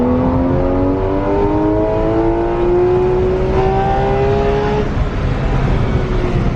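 A Porsche sports car engine revs hard, pitch climbing steadily through the gears with a brief shift, loud and close, no talking.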